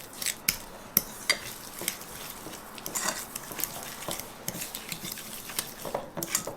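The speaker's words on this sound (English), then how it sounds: "I'm going to mix this a little bit here" Hand-mixing keto cookie dough in a bowl, with soft butter among the ingredients: a utensil scrapes and clinks against the bowl in uneven strokes, some sharper knocks standing out, fairly close and without talk.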